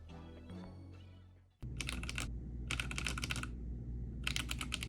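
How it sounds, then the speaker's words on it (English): Typing on a Guffercty Kred 65% mechanical keyboard, with close, loud bursts of rapid key clacks in three separated runs over a steady low hum. "here is your keyboard test."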